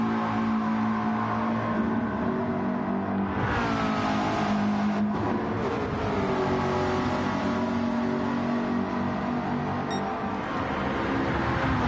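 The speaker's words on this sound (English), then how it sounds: "Straight back on the throttle." A GT race car in a racing video game accelerates back on the throttle after a lift and coast, its engine note climbing steadily in a sustained, loud, close drone with a brief dip partway through.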